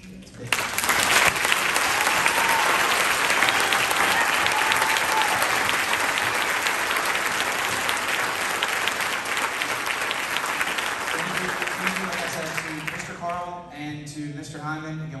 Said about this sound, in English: just by, again, a mass round of applause